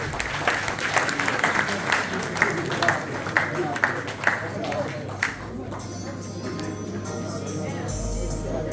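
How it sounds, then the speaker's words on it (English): Audience applause at a hotel commissioning ceremony after the hotel chairman's speech, steady dense clapping from a crowd that thins toward the end while a voice speaks over it. "Please, can we give Dr. Kolo Babajia another round of applause?"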